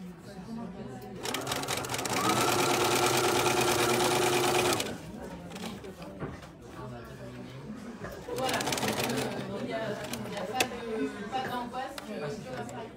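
A sewing machine stitches fabric for a zippered pouch in bursts, a dense rapid whirring run, a pause, then another stretch of stitching with clicks as the needle and presser foot are repositioned.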